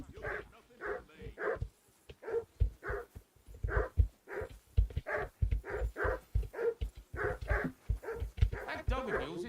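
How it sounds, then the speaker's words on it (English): Dog barking in the medieval role-playing game Kingdom Come: Deliverance II, a string of sharp, loud barks in a steady rhythm running through the whole stretch, with game voices talking over them. "That dog of yours is barking like the devil."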